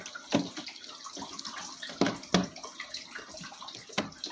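Water flushing through the filters of a Livpure water purifier during a back and forward flush, a steady splashing wash with a few sharper bursts and drips, close by with no talk.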